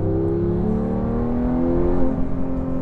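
A human voice imitates a high-revving Porsche GT3 sports car engine, a sustained buzzing drone that climbs slightly in pitch, then breaks off.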